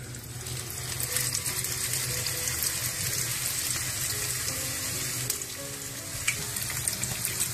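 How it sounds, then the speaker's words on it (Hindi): Food frying steadily in hot oil in a home kitchen, a dense continuous sizzle that stays fairly loud and even throughout, with no talking over it. "इस तरह से फिर इसको तल लें आप।"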